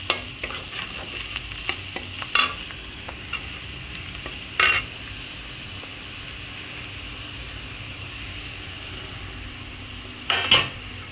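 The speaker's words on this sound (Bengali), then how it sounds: "সুজিটা দিয়েও এটাকে ভাজা ভাজা করে নিতে হবে" Semolina fries with potato and onion in a pan under a steady close sizzle, with occasional scraping clinks of a spatula stirring against the metal.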